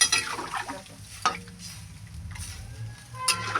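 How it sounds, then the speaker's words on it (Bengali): A spoon stirs a spiced curry gravy with cauliflower, kohlrabi, potato and rohu fish in a pan, producing soft scraping strokes and a few sharper clinks over a low, quiet simmer. "জলটা দিয়ে আবার একটু ভালো করে নাড়িয়ে চাড়িয়ে দিতে হবে যাতে মশলাটা ঝোলের মধ্যে হয়ে যায়"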